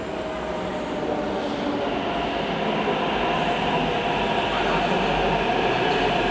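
A Hyderabad metro train arriving at a station gives a continuous, loud rumble that builds gradually, with rolling wheel noise and a faint squeal on top.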